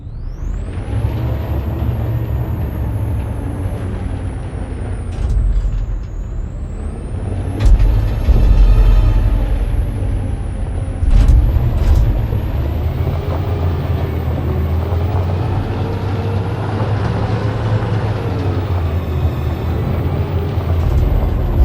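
A heavy truck engine in the video game Detroit: Become Human rumbles steadily with sharp hissing bursts of air brakes, loud and close, with no voices.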